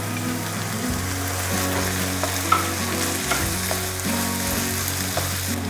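Onions crackle and sizzle steadily in a hot pan, a dense hiss with occasional pops, under a low steady hum and no voices.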